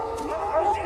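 Dogs in a film scene of dogs attacking slaves, heard as a brief, close burst of yelping and whimpering barks over a steady background with faint voice-like sound.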